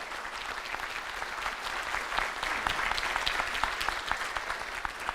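A large audience bursts into loud, sustained applause at a business event in honour of a guest, the dense clapping steady throughout with no speech over it.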